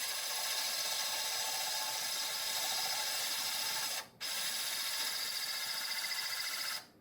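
A power drill bores a hole through porcelain tile, a steady, high, grinding whir that runs continuously, stops briefly once, then resumes and cuts off at the end.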